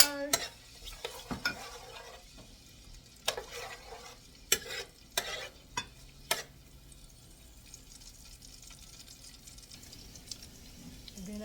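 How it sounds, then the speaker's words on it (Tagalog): Garlic and onion sautéing in a pan for Filipino kare kare, a soft steady sizzle broken by several sharp scraping stirs of a utensil against the pan in the first half, with quieter frying continuing after. "Magigisa tayo ng bawang at sibuyas"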